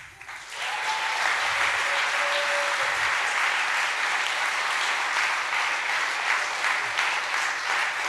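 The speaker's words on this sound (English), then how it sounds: "please give a big round of applause for Environment Karaoke" Sustained applause from a hackathon closing-ceremony audience, steady clapping throughout with no pauses, fairly loud and close.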